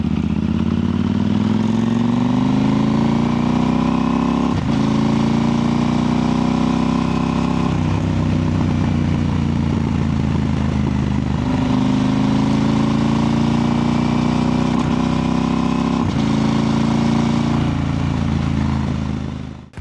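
A motorcycle engine revving steadily while riding, picked up by a DJI Mic 2 clipped onto the bike's body, with loud, close rising pitch sweeps broken by several gear shifts and no voices.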